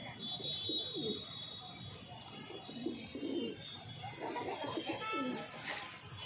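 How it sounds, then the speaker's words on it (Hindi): Several pigeons coo softly in repeated low, throaty phrases, close by, with faint chirps and background hiss around them. "कबूतर हमारे कबूतर।"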